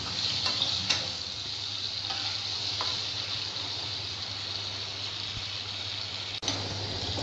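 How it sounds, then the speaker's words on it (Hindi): Potatoes frying on a medium-high flame for a pointed gourd curry, a steady hissing sizzle throughout with a few faint clicks, no one talking. "इसको भी हम तेज आंच पे मीडियम टू हाई फ्लेम पर इसको हम भून लेंगे।"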